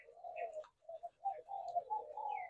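Caged oriental magpie-robins kept for breeding call close by in a steady run of warbling, whistled phrases with one brief pause, and no voices.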